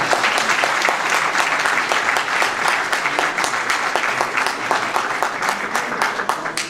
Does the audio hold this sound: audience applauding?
yes